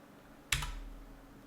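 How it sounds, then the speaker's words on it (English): A single sharp click as a key is pressed on a computer keyboard, close and isolated in a quiet room, followed by a faint low thump that fades. "I'm pressing keys,"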